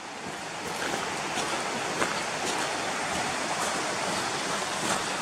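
A river swollen by rain rushes powerfully in a steady, full roar of churning water, close and unbroken throughout, with no voices.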